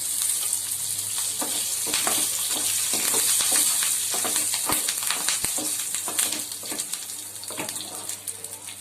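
Curry leaves sizzle and crackle in hot oil for a tempering (popu), a steady close frying hiss broken by sharp pops and spits throughout, with no talking.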